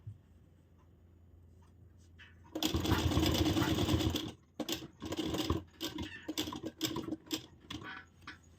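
A sewing machine runs a side seam along a blouse edge in one loud burst of under two seconds, then a series of short taps and clicks as the fabric is handled.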